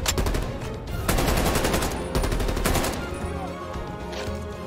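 Call of Duty: Black Ops Cold War automatic gunfire rattles in long, loud, close bursts separated by short gaps, fading toward the end.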